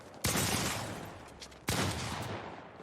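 Two sharp bursts of Fortnite gunfire, each a loud crack followed by a lingering rattling tail, spaced about a second and a half apart with no talking.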